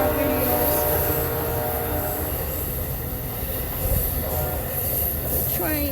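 Close, loud passing train with railcars rolling by, wheels squealing and a steady clatter throughout, a sustained roar with a sharper squeal near the end.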